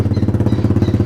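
A Chinese pit bike fitted with a new air filter idles up close, its engine putting out a quick, even, loud chugging pulse that stays steady throughout.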